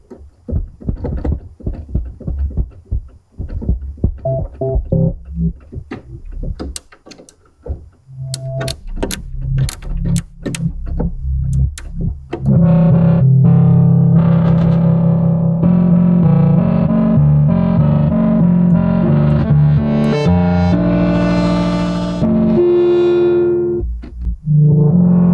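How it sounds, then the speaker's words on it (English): A synthesizer in a studio has its oscillators set to different waveforms and octaves, starting with sparse, choppy test notes and then swelling into a loud, sustained, distorted chord with shifting tones that fades near the end. "Let's put every oscillator on another waveform and another octave"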